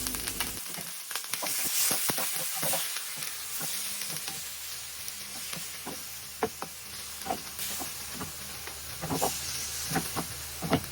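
Beef sautés in cooking oil with a continuous close sizzle and hiss, broken by frequent sharp clinks and scrapes of stirring throughout.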